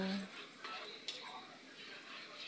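Onion sautés in a pan for ginataang sayote with a faint, steady sizzle and occasional utensil clicks of stirring, close but quiet.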